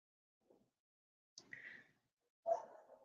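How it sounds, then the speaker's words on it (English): A few dogs bark indoors, quietly and at some distance: a soft yip, then two fuller barks with short gaps between them. "now my dogs are barking"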